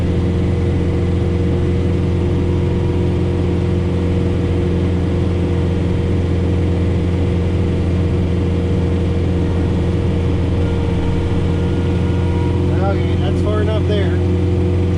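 Tractor engine running steadily under load while driving a Frontier SB1174 snowblower through the PTO during an April blizzard, a loud continuous low droning hum that stays constant throughout, with a brief faint higher chirp near the end.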